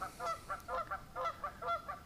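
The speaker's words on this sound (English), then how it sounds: "Goose! Shut up!" A goose honks repeatedly from some distance across the water, a rhythmic series of nasal calls roughly every quarter second, faint but clear with no talk over it.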